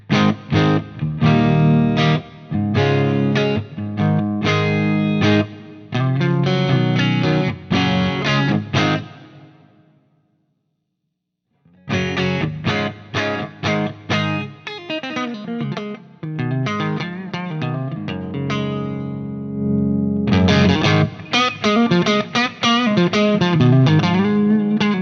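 Electric guitar through a Synergy Deliverance preamp module plays crunchy distorted chords and riffs, loud and close, with a short silent break midway before the chugging resumes; no voices.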